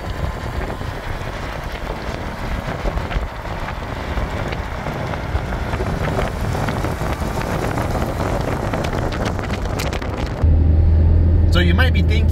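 A supercharged 1997 Subaru Vivio Bistro cruises on a freeway, the cabin filled with dense, loud road and wind roar that holds steady before a heavier low drone takes over near the end.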